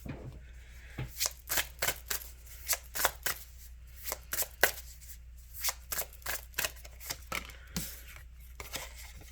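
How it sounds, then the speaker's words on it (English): Tarot cards shuffled by hand, a quiet close series of crisp riffling bursts and soft slaps in an uneven rhythm, heard alone with no talking. "I am dropping cards everywhere, of course."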